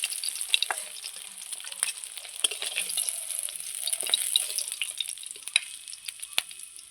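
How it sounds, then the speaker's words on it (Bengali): Koi fish fry in hot oil with a dense, steady sizzle studded with sharp crackles and pops, close and with no talking. "বাদ বাকি মাছগুলো আমি ঠিক একইভাবে ভেজে নেব"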